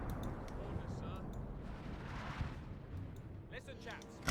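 Artillery fire rumbles through a Company of Heroes 2 battle, a continuous low booming wash with scattered sharper blasts, moderately loud and distant-sounding, with a few brief crackling impacts near the end.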